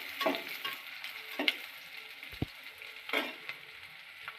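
Whole green chillies sizzle and fry in hot oil for a homemade prawn biryani. A steady soft crackle is broken by a few stirring scrapes and taps, close but quiet, with no talking.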